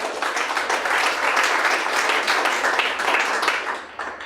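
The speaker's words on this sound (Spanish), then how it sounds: "¿No le dan un aplauso al Señor por eso?" A church congregation applauds with dense, steady clapping that holds for several seconds before tapering slightly at the end.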